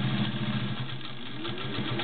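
A Singer 201-2 sewing machine with a potted motor sews through six layers of Levi's denim, giving a steady close motor hum with a fast, even needle rhythm that holds unbroken throughout.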